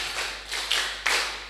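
Group of students clapping in unison during a leadership training session, with three or four broad, fairly loud claps spaced evenly in a steady counted rhythm.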